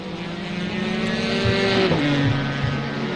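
Ferrari race cars lapping Imola in the iRacing simulator: a dense pack of engines drones and whines together, with a car's pitch sweeping down as it passes close, steady and loud throughout.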